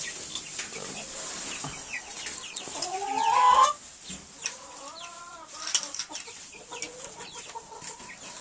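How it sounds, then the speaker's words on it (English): Cornish hens clucking and squawking nearby, a louder drawn-out cackle followed by softer scattered clucks over a steady background hum. "I got the Cornish hens out here now"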